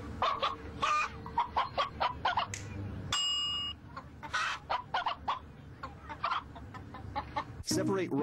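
Chicken clucking in short, repeated bursts at close range, mixed with a steady run of other busy sound through the whole stretch.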